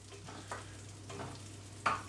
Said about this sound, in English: And you want the sizzle, that's a good sign.